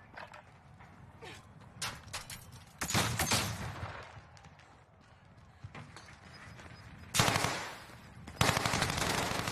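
Heavy gunfire in a video game, bursts of rapid shots and loud blasts coming in waves amid the game's background noise.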